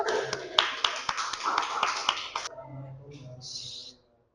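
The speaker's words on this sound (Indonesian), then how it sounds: "tepuk tangan dulu" A classroom of students applauds after a maths presentation with a burst of scattered, overlapping claps for about two and a half seconds. The clapping thins out into quieter sounds before stopping.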